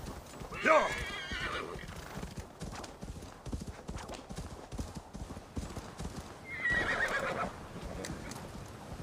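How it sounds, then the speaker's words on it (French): Horses in Assassin's Creed Valhalla: steady clip-clop of hooves throughout, with two loud neighs, one near the start and one later, under a man's speech. "C'est quoi ici? Parce qu'il y a des chevaux là."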